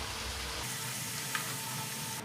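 Elephant foot yam frying in a pan, giving a steady, quiet close-up sizzle that continues evenly throughout with only a small tap near the middle.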